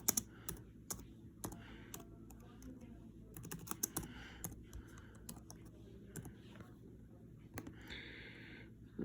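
Keys clatter on a computer keyboard as an answer is typed, with irregular bursts of close clicks and brief pauses and some quiet talk.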